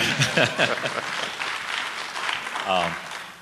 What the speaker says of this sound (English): So, applause is welcome.